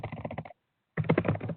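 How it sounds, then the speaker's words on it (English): A computer keyboard clatters through an open microphone during an online aviation cargo meeting, in two quick bursts of rapid key presses separated by a brief silence. "Someone is typing."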